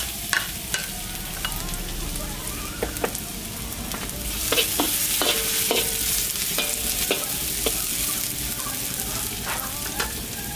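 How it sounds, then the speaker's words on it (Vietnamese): Julienned ginger and minced garlic fry in annatto oil in a pan for crab curry, a steady crackling sizzle broken by repeated sharp spoon stirs and scrapes, growing livelier midway. "Rồi mình sẽ cho gừng sắc sợi vào đây, khoảng 1 muỗng canh vuông. Và 1 muỗng canh vuông tỏi băm."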